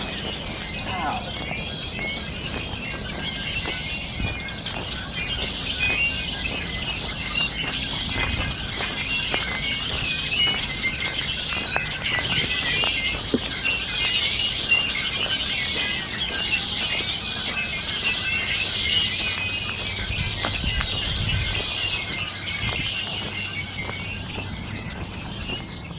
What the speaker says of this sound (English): that's just birds chirping.